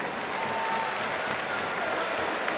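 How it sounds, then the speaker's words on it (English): A hockey arena crowd applauds student achievers with a dense, even wash of clapping that fills the large space. A faint voice runs beneath it throughout. "Let's have a nice round of applause for all of our student achievers"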